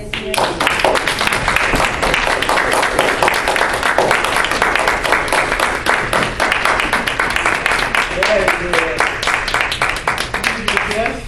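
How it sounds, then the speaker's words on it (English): Applause from the audience at a men's community forum on violence, honoring the brothers on the panel: dense, steady clapping from many hands that carries on unbroken at a loud level for about eleven seconds. "we would like to give our brothers a round of applause"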